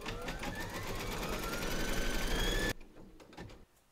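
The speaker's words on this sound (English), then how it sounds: "Pop your hoop into your machine and stitch round number 4 to secure them." An embroidery machine stitching fabric held in a hoop, a loud, steady mechanical whir with rapid needle chatter that stops abruptly, leaving brief faint clicks and handling noise.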